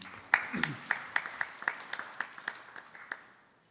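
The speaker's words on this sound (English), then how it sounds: "I think we could give each of ourselves a round of applause for being here this evening" Audience at a national Divali celebration in an evening program clapping together in a slow, evenly spaced rhythm, a dozen or so distinct claps that fade toward the end, moderately quiet in the room.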